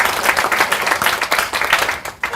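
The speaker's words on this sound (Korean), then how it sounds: "다시 한번 격려의 박수." Audience applause at a Korean premiere screening, a dense steady wash of clapping from a crowd that fades slightly at the end.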